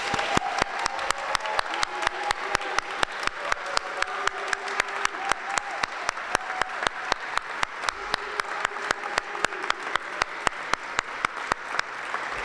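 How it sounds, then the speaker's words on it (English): Sustained applause from a crowd, dense rapid clapping filling the whole stretch at steady volume with no voices. "we give another round of applause to John, Phil, and the rest of the original"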